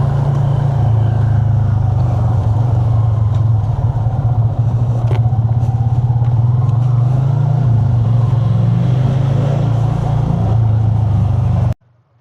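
A motorcycle engine idling steadily during its break-in period, a loud continuous low hum with a faint rattle, running alone without talk for about twelve seconds before cutting off abruptly.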